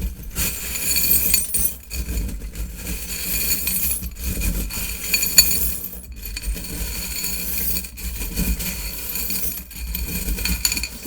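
Small metal and glass charms being mixed together, a continuous jangling and clinking as they tumble against each other, with brief pauses and one sharper clink in the middle.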